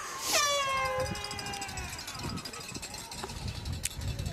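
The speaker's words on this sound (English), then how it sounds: "an air horn's a nice addition for the Morris crowd" A loud air horn blares with a long harmonic blast at the start, fading out over a noisy crowd murmur and scattered voices at a curling game.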